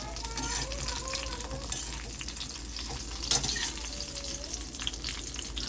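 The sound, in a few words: chillies being sautéed in a pan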